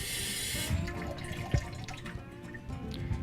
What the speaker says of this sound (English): you can take some warm water, which is less expensive, and fill it up